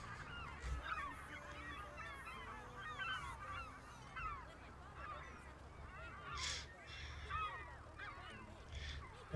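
A flock of seagulls cries steadily in a farming video game seagull mod as they trail farm machinery hunting earthworms, with many overlapping honking calls, some closer and louder, against a low mechanical hum.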